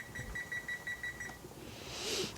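A kitchen timer is set for a pasta dish and gives a rapid run of about eight short, high beeps, faint and evenly spaced, before stopping.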